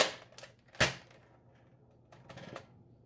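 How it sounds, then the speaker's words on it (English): Nerf Mega Magnus blaster being cocked, giving a few sharp plastic clicks, with one louder snap near the start and a quicker pair of ratcheting rev-up clicks a moment later, close and fairly quiet. "You cock it like so, and then it makes like this cool little rev up in between."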